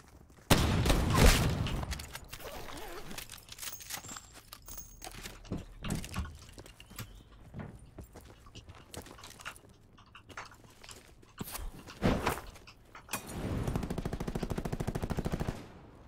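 Shotgun blasts from Red Dead Redemption 2 boom out loud and sharp in irregular bursts, with a heavy double blast at the start, scattered shots through the middle and a dense rattling volley near the end.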